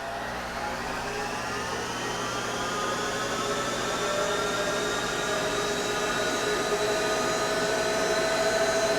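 A Monarch 10EE lathe spinning up while machining a Mini-14 gas bushing, giving a steady motor and gear whine whose pitch climbs slowly as speed rises, continuous and fairly close with no talk.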